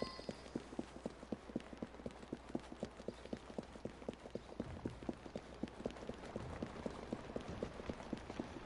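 Horse and carriage in Assassin's Creed Syndicate video game, steady clip-clop of hooves at a brisk even trot, fairly faint and continuous over a low background hum.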